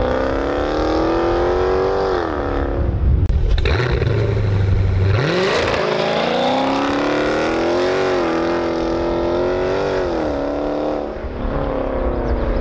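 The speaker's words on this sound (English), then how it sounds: "I'm going to include some sound clips of how the car sounded with just the mid muffler delete right now." Dodge Challenger with a mid muffler delete, its engine revving repeatedly with deep rising and falling exhaust roars, throttle blips and a rumbling idle between, loud and close without talk.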